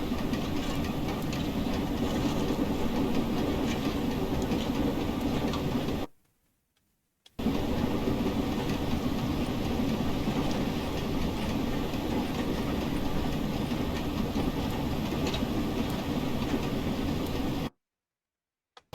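An LMS Stanier 8F steam locomotive runs with more reverser in a train simulator, a steady loud rhythmic chuffing and rattling that drops out into two short silent gaps.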